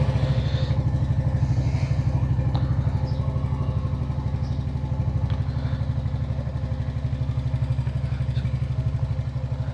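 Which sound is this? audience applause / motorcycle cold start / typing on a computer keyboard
motorcycle cold start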